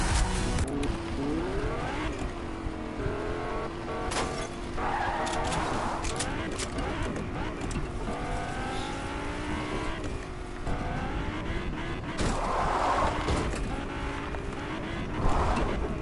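Car engine hums and roars through a PS4 video game drive, continuous and fairly loud, with tire scrubs and occasional bumps and bursts of in-game sound over the whole stretch.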